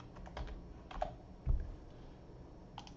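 Keys clatter on a computer keyboard in short bursts of typing, with a louder thump midway and a brief final flurry, close and fairly quiet, with no talking.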